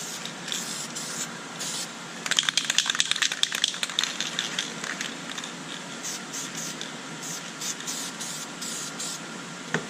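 Aerosol spray paint hisses in a series of short bursts and a longer sustained pass as a medium-light coat goes onto interior car plastic, vinyl and leather trim, close and fairly loud with no talking.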